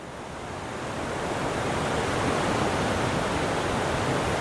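Steady, loud rush of a river flowing through a cave, a broad continuous roar that swells slightly at the start and then holds constant, with no voices.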